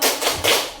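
A group of teachers at an Indonesian school training session claps a brief rhythmic 'tepuk semangat' pattern: a couple of quick, close, dense bursts of hand claps with no talk over them.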